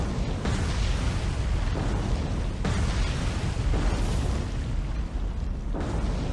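Heavy explosions tear through a South Dakota battleship in the naval video game War on the Sea, a continuous loud rumbling roar with repeated booming bursts, no talk over it.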